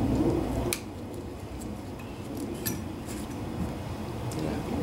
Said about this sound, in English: Now that we have this carburetor off, we can take off the float bowl here.